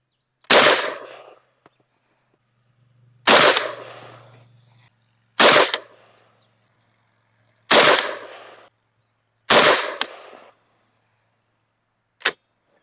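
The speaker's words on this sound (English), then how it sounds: "We're going to shoot a 5-shot group at the top left target." Five sharp rifle shots fired one at a time at a paper target on a range during an optic test, each a loud crack with a short decaying tail, spaced roughly two seconds apart, then a faint click near the end.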